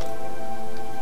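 A clock in a video game ticks in a steady, even rhythm, clear and close with a constant tonal hum behind it.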